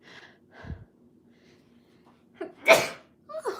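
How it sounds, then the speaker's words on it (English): A single sharp sneeze bursts out close by, preceded by a couple of quick breaths and followed by a short vocal sound. "Oh, I sneeze."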